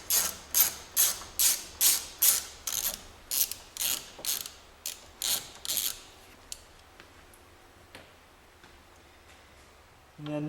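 A ratchet clicks in a rapid series of bursts, working bolts loose on a VW alternator bracket, then the strokes thin into scattered single clicks and quiet.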